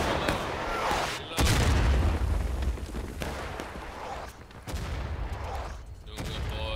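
Musket volley fire in the Civil War video game War of Rights during long-distance shooting near a rail bridge, a loud crackling roar of shots with heavy booming bursts, repeated and continuous.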